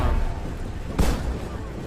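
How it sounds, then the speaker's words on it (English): A single artillery shot booms in the video game Shogun 2: Fall of the Samurai, one sharp blast midway through over steady battlefield ambience. "artillery should have some pretty deadly accuracy here at this stage"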